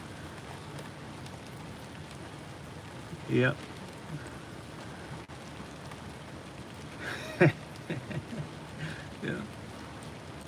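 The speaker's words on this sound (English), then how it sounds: "it's the rain shutting the site down right now" Steady rain falls across the SpaceX Starbase launch site at Boca Chica, Texas, as a constant hiss. Two brief voices speak over it.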